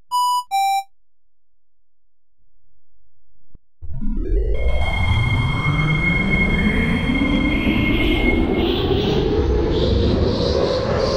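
A two-tone chime sounds, then a metro train departing West Central station hums and rumbles as it pulls away toward Delta Expo, its motor whine rising steadily in pitch, loud and close.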